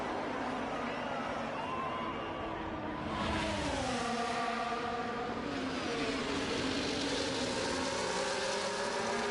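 Race cars in a racing video game accelerate off the starting line together, a dense, loud engine roar whose revs climb in rising harmonic sweeps, with commentary talk running over it.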